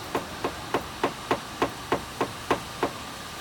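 Ten evenly spaced taps of paintless dent repair work on a BMW fender dent, crisp metallic knocks about every third of a second, close and steady with no talk.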